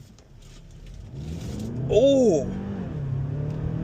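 A 2026 Hyundai Palisade Hybrid accelerates hard with a low, steady drive rumble heard from inside the cabin, while a person exclaims briefly over it.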